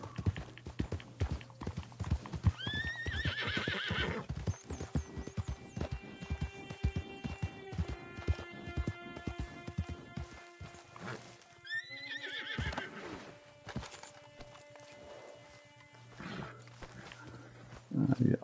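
Horse hooves clip-clop at a steady rhythm in Red Dead Redemption 2, with a loud whinny partway through and another neigh later, set against game ambience while a voice talks over it.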